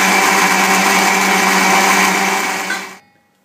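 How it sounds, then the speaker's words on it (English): A blender whirs steadily at high speed, blending vegan cheese ingredients into a creamy mixture, loud and close for about three seconds before switching off and spinning down. "Blend the ingredients in your blender till it comes out nice and creamy."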